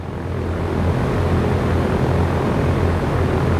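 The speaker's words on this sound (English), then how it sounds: "Okay, I'll handle this takeoff." A propeller aircraft engine in the X-Plane 11 flight simulator, played through a home cockpit during takeoff, gives a loud, steady, unbroken roar from start to finish.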